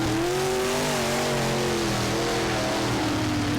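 Race cars accelerating at Thunder Hollow Speedway on a green-flag restart, several engines rising together in a loud, sustained roar with rising pitch, close and continuous.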